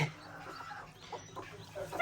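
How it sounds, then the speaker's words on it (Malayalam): Domestic hens cluck softly in a yard with chicks around, giving a few quiet, scattered clucks at moderate distance over low background noise. "നമ്മുടെ മൂന്ന് കോഴികളാണ് ഇന്ന് അമ്മ അയക്കുന്നത്"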